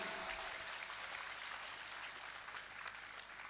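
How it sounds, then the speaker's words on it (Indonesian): Applause for Islamic boarding school students (santri) at a religious sermon gathering: a steady, dense wash of clapping from a large crowd, fairly distant and continuous throughout. "Tepuk tangan untuk para santri."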